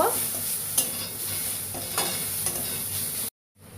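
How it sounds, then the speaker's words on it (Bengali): Ginger-garlic paste and turmeric powder sizzle steadily in a hot pan while being stirred, with a few scraping strokes over a continuous close fry before a sudden cut to near silence. "আর আমি দিয়ে দেব আদা রসুনের পেস্ট। দিচ্ছি হলুদ গুঁড়ো দিয়ে একটু কষা করব।"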